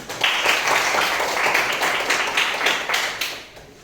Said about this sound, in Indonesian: tepuk tangan buat teman-teman